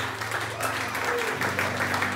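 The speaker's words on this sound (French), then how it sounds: "Est-ce que tu peux acclamer fort?" A crowd at a French-language gathering cheers and claps loudly and steadily, with sustained applause close by.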